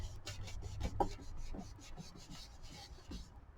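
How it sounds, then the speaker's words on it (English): Tissue rubbing back and forth over a cured eco resin piece such as Jesmonite, a steady series of soft, close rasping strokes in a quick regular rhythm, heard alone. "you can just take a soft cloth and you can rub it."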